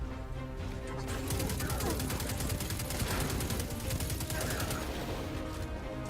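Rapid rifle fire in Destiny 2 during a fight, delivered in dense repeating bursts of sharp shots that run almost nonstop with only brief gaps.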